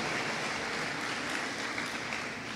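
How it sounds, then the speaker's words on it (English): Audience clapping at a school graduation ceremony, a brief, even patter of many hands at moderate volume with no talking over it. "Yes, we can have a clap for that for sure."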